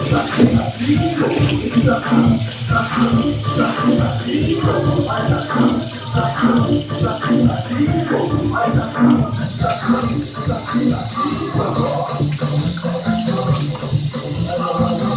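Tap water runs steadily into a pot as whiting fish is rinsed and washed, a continuous close splashing flow with clattering handling sounds throughout.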